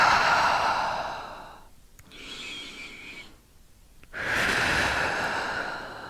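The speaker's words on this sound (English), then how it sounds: "A couple more breaths." Slow, deep breaths during bedtime yoga: a long audible exhale, a quiet pause with a faint tone, then another full breath, close and unhurried.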